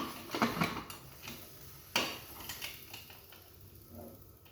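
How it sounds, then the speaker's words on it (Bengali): Metal lid being set onto a cooking pan while making mango jelly in a home kitchen, a few light clinks and clatters, the sharpest near the middle, then quieter rattling with no talking. "এবার এইটা ঢাকনাটা পরিয়ে দেবো।"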